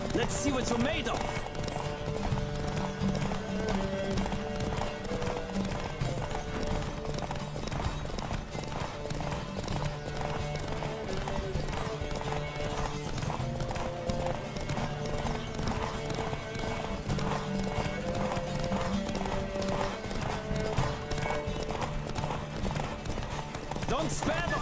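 A horse gallops hard in a race in the video game Witcher 3, with steady rapid clip-clop hoofbeats and occasional whinnies under a continuous bed of game sound and voices.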